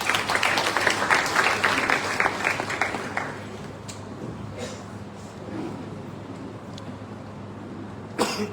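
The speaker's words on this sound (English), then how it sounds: "Let's welcome Mr. Shrikant Sarda sir with a huge round of applause." An audience applauds to welcome a guest speaker at a college launch event in India. The clapping is moderately loud and sustained at first, then thins into scattered claps, with a cough and rustling toward the end.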